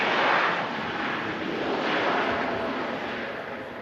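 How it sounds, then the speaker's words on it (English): A Transat Airbus A321neo arrives from Toronto at Manchester Airport, its jet engines making a broad, steady roar at moderate distance that fades slightly toward the end, with no talking. "Transat A321neo in from Toronto."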